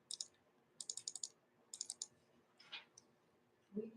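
Rapid bursts of clicky tapping from typing on phone keys with long fingernails, three quick clusters of sharp taps close to the mic, followed by a brief rustle and a low thump.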